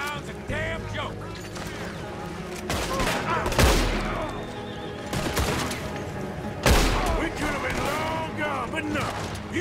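Gunfire rips through a town in Red Dead Redemption 2, with sharp, loud blasts near 3, 3.5, 5 and 6.5 seconds over a steady rumble of battle noise while characters talk throughout.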